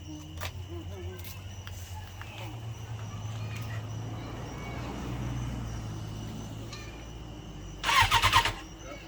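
A lowered 2006 Suzuki Katana motorcycle with a newly fixed valve stem seal cranks with a brief loud starter burst near the end, after a low idle-like hum and faint talk.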